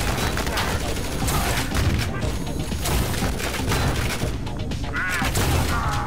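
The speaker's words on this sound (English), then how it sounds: "We use the tank again, the one button tank. Suppressing fire," In the shooter game Ion Fury, a tank unleashes suppressing fire as a dense barrage of booms and crashing explosions, loud and continuous with brief gaps, speech faintly mixed in.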